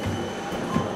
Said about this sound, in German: Und dann kommt gleich die Straßenbahn und rußt einen über den Haufen.